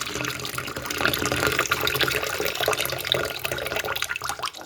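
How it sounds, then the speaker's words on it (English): Water pouring steadily from a tap to top up a container holding old circuit boards being processed for gold, a continuous close splashing rush with no talk. "I'm just going to top that up with water."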